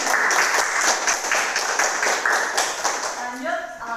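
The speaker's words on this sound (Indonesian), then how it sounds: "Tepuk tangan dulu buat Edi." A classroom full of students applauding a classmate, with steady dense clapping for about three seconds that tapers off at the end, as a voice starts speaking.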